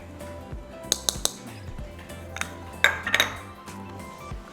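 Dry baking ingredients, sugar, salt, baking powder and soda, being mixed in a bowl for Mexican mantecadas, with several sharp clinks and taps of a utensil against the bowl amid softer scraping.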